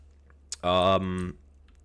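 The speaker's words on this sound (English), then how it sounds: "So this keyboard feels really nice now." Quick burst of typing on a mechanical computer keyboard damped with paper towels underneath, a short muted clatter of keys lasting under a second, close and fairly soft.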